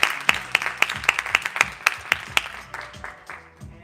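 A small audience claps for a poet with a burst of distinct, rhythmic hand claps that loosen and fade over a few seconds, close and lively in a modest room.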